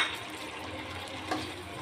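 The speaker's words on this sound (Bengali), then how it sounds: "এখন ভালো করে মিশিয়ে নেব।" Chicken and chopped tomato stirred in a cooking pot for chicken khichuri, giving a soft, steady sizzle with faint scraping and one brief clink near the end, close and quiet.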